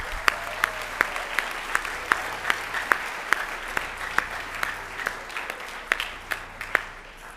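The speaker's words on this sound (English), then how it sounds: "Give them a round of applause." An audience at a senior class awards and recognition ceremony applauds the graduating class of 2023. Individual claps stand out sharply at a steady rhythm over a softer, fainter bed of clapping from the crowd.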